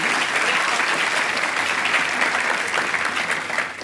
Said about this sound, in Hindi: दोनों के लिए पहले तो एक बार जोरदार तालियां।